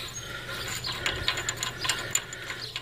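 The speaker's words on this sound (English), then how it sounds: "you'll have to take this big nut off right here" Ratchet wrench working on a 36mm rear hub nut of a Ford Explorer, a quick series of close, crisp clicking pawl sounds over a low background hum.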